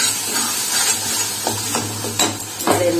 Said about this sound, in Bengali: ভালো করে ভেজে নেবো, ভেজে কষিয়ে নেবো।